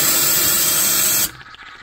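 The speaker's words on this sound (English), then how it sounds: "Just using an ultrasound and a steamer like that over there." A jewelry steamer blasts a loud, close, steady hiss of steam for about a second and a quarter, then cuts off abruptly into quiet.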